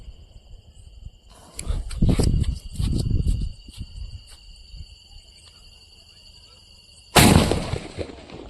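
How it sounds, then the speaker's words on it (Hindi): A sutli bomb firecracker goes off at Diwali with one sharp, loud bang near the end. Before it come a few duller thumps and rustles, and crickets chirp steadily in the night background throughout. "अब है हमारे पास है नाजी का सुतली बम, कुछ इस प्रकार का। चलिए इसको जलाते हैं।"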